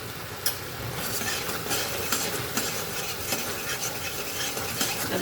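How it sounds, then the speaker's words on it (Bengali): Turmeric, Kashmiri chilli powder and spice paste sauté in hot oil in a pan for a mixed vegetable dish. A steady, close sizzle runs throughout while a spatula scrapes and stirs in repeated strokes. "ভালো করে এবার কষিয়ে নেব।"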